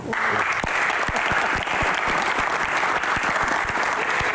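Loud, steady applause from an audience at an Indonesian stage event, with dense clapping continuing throughout without a break.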